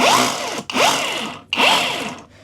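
A Masaru cordless rotary hammer drill rated at 2.4 joules runs in plain rotary drilling mode without hammering. It gives three close, loud whining bursts with short pauses between them.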